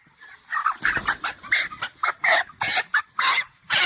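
Broiler hens clucking and squawking as they are caught for weighing, a rapid series of loud, agitated calls close by, one after another with no pause.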